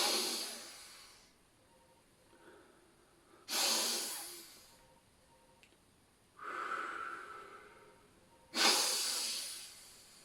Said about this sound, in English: I would walk into a room and take several long sniffs